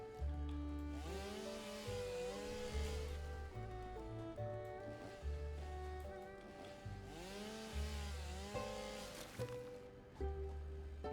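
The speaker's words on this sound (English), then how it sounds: "Alright, chainsaw." Chainsaw in the video game Satisfactory, a loud buzzing whine with rising and falling pitch sweeps that repeat in cycles, over a low rumbling backing throughout, with no talk.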